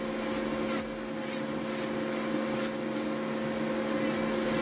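An electric nail sander (ponceuse) buffs away gel polish, giving a steady high-pitched motor whine with a scratchy grinding texture and brief rasping bursts as the bit meets the nail, close and continuous with no talk.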